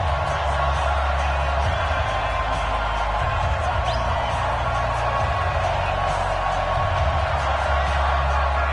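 Steady crowd roar from a stadium NFL game between the Atlanta Falcons and Oakland Raiders in an EA Sports football video game on PS4, a constant broad din with scattered whoops, no talk over it.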